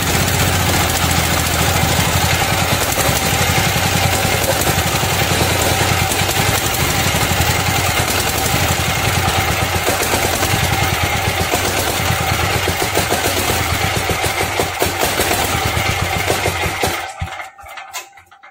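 An 18 HP diesel engine runs steadily after being cranked with a starter motor, a loud continuous rough chugging drone that holds for most of the stretch before cutting out near the end.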